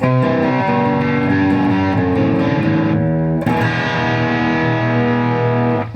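Distorted electric guitar chords from a 1976 Ibanez Les Paul copy on the bridge pickup at full volume ring loud and bright, sustained with a thick effected tone and a chord change midway, no voices.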